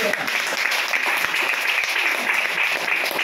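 A church congregation claps hands in praise, a dense steady wash of applause that holds at an even level throughout.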